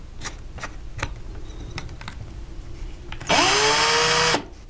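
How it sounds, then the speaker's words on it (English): A cordless power drill spins up with a rising whine and runs steadily for about a second while coiling wire for jewelry making, preceded by scattered clicks and handling taps. "So this drill has a forward and backwards button."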